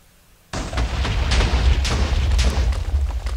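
A Minecraft landmine goes off with a sudden deep boom after near silence, followed by a few seconds of rumbling, crackling debris that stays loud before slowly easing.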